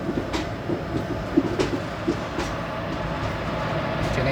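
The Mangaluru–Vijayapura Express rolls along with a steady low rumble and rhythmic clicking of wheels over rail joints, heard from inside a 3A carriage.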